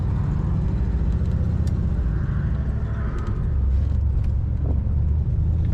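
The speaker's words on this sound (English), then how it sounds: "Today we're driving a 1954 Oldsmobile Starfire" A 1954 Oldsmobile 98 Starfire convertible drives along with its top down, giving a steady low engine rumble and road noise that swell slightly toward the end.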